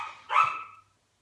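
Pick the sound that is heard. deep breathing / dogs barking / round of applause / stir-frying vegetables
dogs barking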